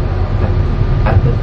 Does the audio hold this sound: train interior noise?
yes